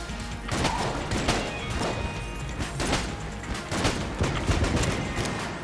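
Royal gun fire in the Enter the Gungeon video game: a dense, continuous barrage of crashing shots and impacts that holds loud for several seconds, with no talking over it.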